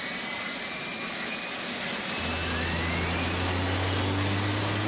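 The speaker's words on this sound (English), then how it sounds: "Sounds like our helicopter." Helicopter in a video game, a steady droning rotor and engine hum that swells louder and lower partway through as it comes closer, alone with no talk.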